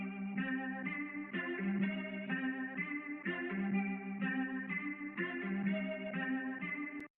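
A sliced guitar pattern in FL Studio, low-pass filtered, loops steadily for about seven seconds with choppy rhythmic repeats and a muffled, dark tone, then cuts off abruptly.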